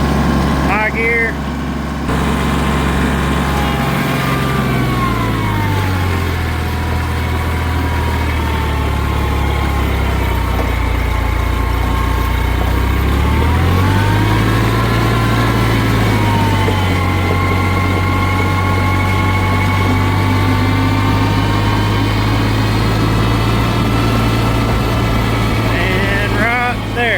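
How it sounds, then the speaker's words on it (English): Kioti CK tractor engine rising from idle to full revs in high gear, a steady loud drone that climbs in pitch and holds high, close by with faint talk underneath. "Rev it up all the way and see how long it takes."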